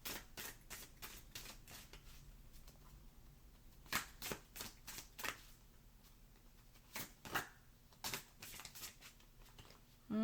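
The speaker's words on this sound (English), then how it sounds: "This deck is bigger than my hand. Gotta shuffle it this way." An oversized card deck is shuffled by hand in a quiet room, giving short crisp riffling bursts and soft taps in an irregular rhythm, close and fairly faint, with no talking.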